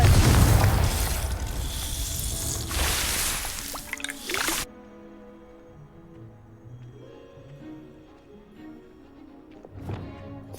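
In Hogwarts Legacy, the Confringo explosive fire spell lets loose a loud, rushing fiery blast that roars for several seconds and then cuts off, leaving quiet game ambience and a brief later burst.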